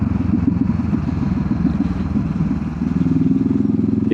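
Honda CB500F motorcycle engine running steadily while riding on the road near Pendle Hill, a constant loud low rumble with a slight rise in the last second.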